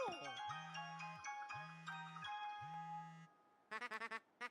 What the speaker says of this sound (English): Did you change your fucking ringtone?